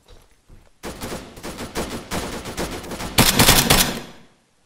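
Dense, loud gunfire in ARMA 3, sustained rapid bursts like automatic weapons fire, close and overlapping for several seconds before cutting off abruptly.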